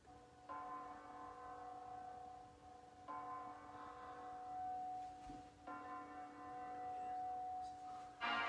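Deep bell chimes ring out three times at a slow, even pace, each tone sustaining and fading before the next strike.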